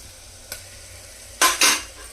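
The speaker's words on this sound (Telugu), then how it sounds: "ఈ అల్లం వెల్లుల్లిపాయ పేస్ట్ కూడా పచ్చి వాసన పోయే వరకు ఫ్రై చేసుకోవాలి." Ginger garlic paste frying in a pan for a country chicken keema, with a faint sizzle under one light spoon tap and then two quick, close scraping stirs near the end.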